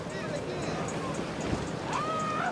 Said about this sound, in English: It's got a slippery hull. That's the best thing. Cutting through them waves.